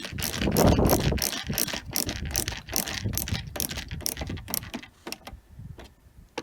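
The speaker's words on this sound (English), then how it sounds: "So let's just put those screws back in and just tighten these up." Screws are driven back into the rear light cluster of a VW T5 Transporter, heard as close repeated ratcheting clicks and small metallic mechanism sounds that thin out toward the end.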